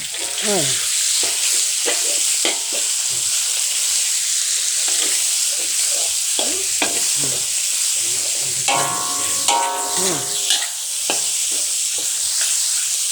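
Pork with ginger stir-fries in a pan: a continuous loud sizzle with repeated scraping and clattering spatula strokes, plus a brief voice partway through.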